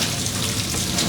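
Water gushing hard from a 1-inch municipal main shutoff, a steady loud broadband rush with no pauses, used to fill a farm wash tank.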